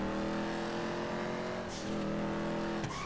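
Modified car engine in GTA 5 Online, a loud steady revving drone with harmonic whine, a brief swoosh partway through and a sharp transient near the end.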